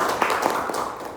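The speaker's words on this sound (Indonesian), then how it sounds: "Tepuk tangan untuk kita semua." Short burst of audience clapping at an outdoor public-speaking training event in a botanical garden forest, a dense, steady patter of many hands lasting about a second.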